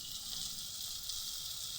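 A ground spice paste fries in oil in a pan, giving a brief, faint, even hiss with no talking.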